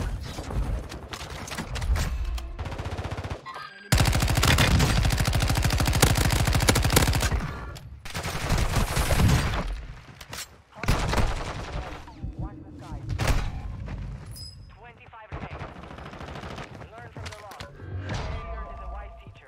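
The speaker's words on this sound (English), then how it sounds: "Oh, he's getting shot at now." Heavy gunfire from a Call of Duty MW3 battle royale match in Verdansk crackles in dense rapid bursts and scattered single shots, loud and close, with a long sustained volley early on.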